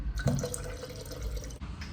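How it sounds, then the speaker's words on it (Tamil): Water runs steadily into a cooking pot for sweet potato and pumpkin soup, a continuous close pouring and splashing that stays even for about two seconds before stopping abruptly near the end. "நான் இப்போ கீழே இருக்கிற கோடு முடிய தண்ணி ஊற்ற போகிறேன்"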